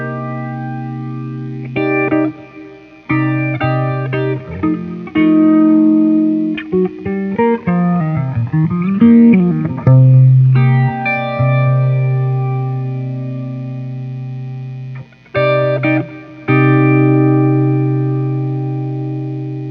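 Electric guitar chords and single notes run through an EarthQuaker Devices Aurelius chorus pedal with its width and feedback raised, giving a warm, swirling, shimmering tone with rhythmic stops and restarts, played alone and up close.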